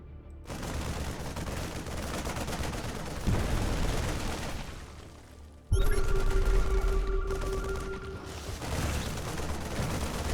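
StarCraft 2 Marines fire at Zerg creep tumors in a Legacy of the Void match on Backwater, a dense, continuous rattle of rapid gunfire with a sharp louder burst midway.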